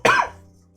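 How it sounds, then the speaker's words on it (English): One short, sharp cough bursts out close to the microphone and quickly fades into quiet. "one of them lets out a little cough"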